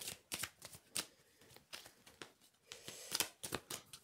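Tarot cards are riffled and shuffled close up in a quiet room, giving a series of crisp papery flutters and snaps that come in irregular bursts.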